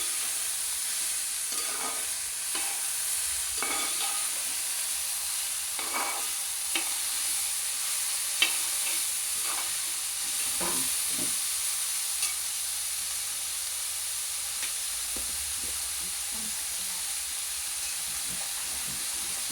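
A masala mixture fries in a pan with a steady hiss and sizzle, while a utensil stirs it in scattered scraping strokes, close and continuous for the whole stretch.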